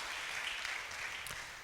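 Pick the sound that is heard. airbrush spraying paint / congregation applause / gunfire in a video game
congregation applause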